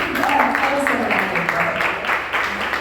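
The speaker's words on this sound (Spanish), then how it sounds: "Un aplauso para Adrián." An audience in a church teaching session claps for a volunteer, with steady, dense applause throughout and voices mixed in.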